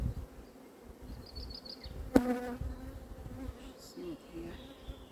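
Honeybees buzz in an open beehive during an inspection, a steady near hum of many insects with someone speaking briefly over it and a short sharp knock partway through.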